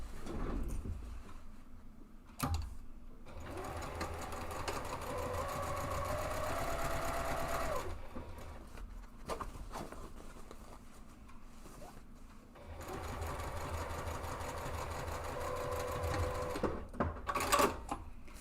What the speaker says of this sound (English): align those sides and then stitch from the top to the seam